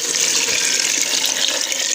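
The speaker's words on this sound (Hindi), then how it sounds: "अब मैं इसके अंदर गर्म पानी डाल दूँगी" Hot water pours steadily into a pressure cooker holding chana dal and lauki, a continuous splashing, gurgling stream, close and fairly loud, with no talking.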